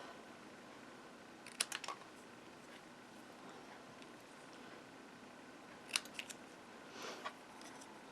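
Scissors snip through card paper while a greeting card is trimmed, giving a few faint, crisp cuts clustered early and again later against a quiet background.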